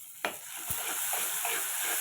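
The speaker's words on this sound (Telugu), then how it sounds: "ఇవి కూడా పచ్చి వాసన పోయే వరకు ఫ్రై చేసుకోవాలి." Soft, steady sizzle of coriander powder frying in oil for a mixed dal, with a couple of light stirring clicks over the continuous hiss.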